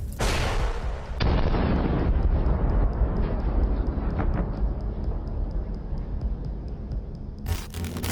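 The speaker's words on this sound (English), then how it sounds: "it ends with an APC stepping on a mine" An armoured personnel carrier hitting a landmine in a battlefield setting: a heavy, loud blast followed by a long rumbling roar that slowly fades, then a sharp final burst at the end.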